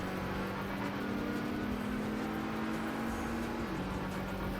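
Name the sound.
struggling race car engine in Trackmania video game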